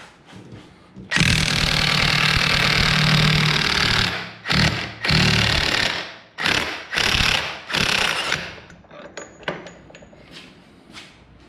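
A Harbor Freight impact wrench rated around 1200 foot-pounds hammers loose a bolt during a Dyna chain conversion, with a long loud rattling burst followed by several shorter bursts, close by and without talk.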